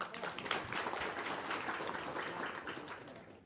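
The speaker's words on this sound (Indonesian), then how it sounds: "Tepuk tangan dulu dong" A seated audience at a gathering claps together, a steady, fairly even wash of many hands that holds at a moderate level for a few seconds without anyone speaking.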